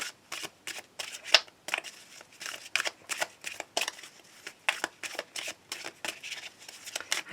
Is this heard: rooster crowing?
no